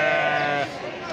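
Sheep bleating at a livestock market, a single loud, close, wavering bleat that tails off after about half a second, with crowd murmur around it.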